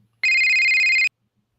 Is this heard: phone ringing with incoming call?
yes